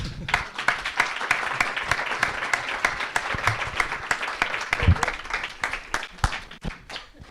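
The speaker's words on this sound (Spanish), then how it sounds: "Un aplauso." An audience claps steadily and loudly, many hands in a brisk rhythmic patter that carries on for several seconds before thinning out near the end.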